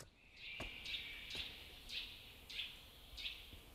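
Morning birdsong around a charcoal kiln: a series of five high, clear chirping calls repeating about every half second to second, moderately near, over quiet outdoor background.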